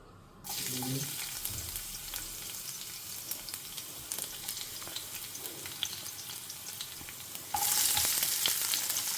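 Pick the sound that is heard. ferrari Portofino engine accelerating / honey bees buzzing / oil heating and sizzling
oil heating and sizzling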